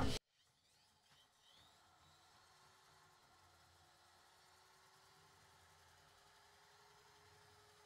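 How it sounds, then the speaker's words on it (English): A Kobalt KDA100 drain auger runs in reverse to wind its coil back in, a steady mid-pitched motor whir with a faint rising whine, close and continuous after a brief loud click at the start. "we're just going to hit this reverse button, and we're going to"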